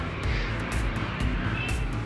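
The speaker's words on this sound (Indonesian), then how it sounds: "Sekarang kita akan mencoba mesin. Kita coba akan hidupkan, sekali putar langsung terjreng ya, langsung nyala" The carburetted 1400 cc engine of a 1994 Daihatsu Charade Classy runs close by with a low, steady rumble and faint rhythmic pulsing, and there is no talk over it.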